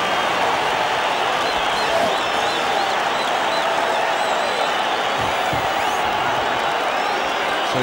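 Stadium crowd at the 1993 Super 10 final between Transvaal and Auckland applauding and cheering as Francois Pienaar bursts through the poster, a dense, loud, continuous wall of clapping and whoops.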